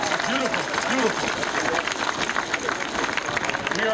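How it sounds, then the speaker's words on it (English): A crowd at a Cesar Chavez march claps and cheers in a steady wash of applause, with someone talking loudly over it. "I want you guys to give yourself a round of applause right now"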